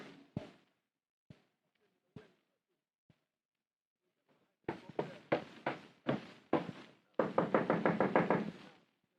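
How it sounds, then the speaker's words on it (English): Repeated knocking on a door, a few sparse raps at first, then a run of firm, rapid knocks building into a loud, fast pounding burst near the end, with no voices. "Don't knock my door down."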